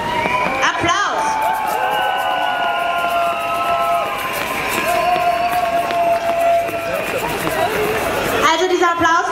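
Loud crowd at a street demonstration in Graz cheering, whooping and shouting, with voices rising over a dense roar of people; the noise holds steady throughout and breaks off briefly near the end.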